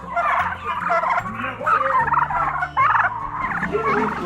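Turkeys gobbling close by in the rain on a farm, a rapid warbling chorus of repeated gobbles overlapping each other, loud and continuous with no talk.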